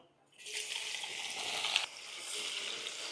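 Whole spices (cinnamon, black pepper, cloves, bay leaf) and chopped onion drop into hot oil and start frying, producing a loud, continuous close sizzle that flares briefly, then settles into a steady hiss.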